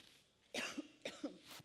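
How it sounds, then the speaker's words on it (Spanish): A few quick coughs in succession, close and fairly soft, after a brief moment of near silence. "perdón por la tos"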